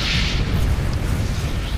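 Deep, rolling booms of artillery explosions in the game Planetside 2, a dense continuous rumble of low blasts with a hissing high wash, loud and heard alone without talk.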